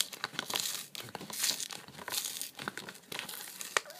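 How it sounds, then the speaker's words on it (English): Plastic wrapper of a homemade trading card pack crinkles and tears as it is slowly peeled open, a close, steady run of crackles and rustles with no one talking. "I'm gonna try and open it so that I can use it again. So I'm just gonna peel away here."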